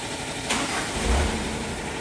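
A car engine cranks with a short burst, then catches and runs at a low, steady idle, recorded close and fairly quiet.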